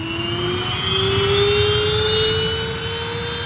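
A specially equipped NASA jet in flight gives off a loud, sustained turbine whine with a slowly rising tone over a steady engine roar.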